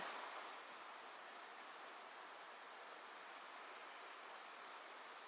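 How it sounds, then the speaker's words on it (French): Flowing water like a waterfall in a nature setting, a soft, even hiss of rushing water, faint and distant, steady throughout with no other sounds. "Vous pouvez entendre le bruit de l'eau."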